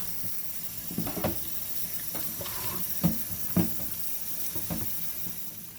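Running tap water splashes steadily while something is rinsed under it in a home kitchen during Sunday cooking, with a few louder splashes and clunks over the constant flow.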